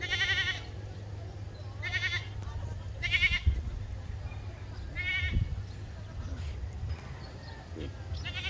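Several loud, wavering bleats from a goat, spaced a second or so apart, with outdoor background noise and a low steady hum underneath.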